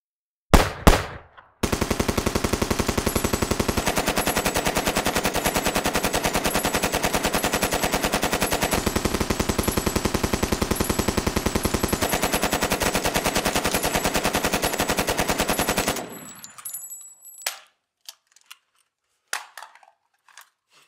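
Sustained machine gun fire sound effect, a loud continuous rapid burst of shots lasting about fourteen seconds, preceded by a couple of sharp single cracks and followed by scattered fading clatter.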